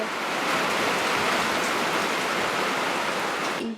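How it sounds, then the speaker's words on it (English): Steady, dense rain pours down, a continuous hiss of drops hitting surfaces with no pauses. "It is raining."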